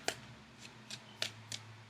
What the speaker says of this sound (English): So I'm shuffling for the outcome card.